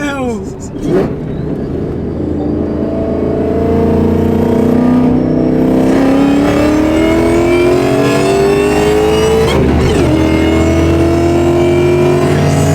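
An 850 hp supercharged Ford Mustang engine revs hard and close, climbing in a rising roar, dropping briefly, then climbing again with supercharger whine, loud and sustained while people speak over it.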